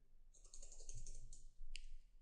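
Keys clatter on a computer keyboard as text is entered during a WordPress install, a quick run of close, crisp keystrokes followed by a short pause and a final sharper couple of clicks.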